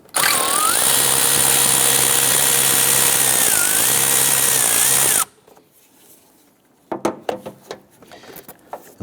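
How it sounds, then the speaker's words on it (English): Loud, steady whir of a power tool loosening a 10mm bolt on the air intake of a 1992-1996 Toyota Camry 2.2L four-cylinder, pitch dipping briefly, then stopping abruptly, followed by a few faint metallic clinks. "we have this 10mm bolt right here."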